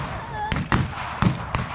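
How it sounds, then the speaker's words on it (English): Small fireworks pop and crack at a WW2 re-enactment event, with three or four sharp bursts spaced across the moment over outdoor crowd noise and a voice. "It's a little piece of fireworks."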